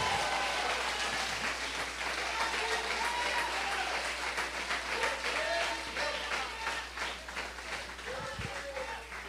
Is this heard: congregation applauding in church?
yes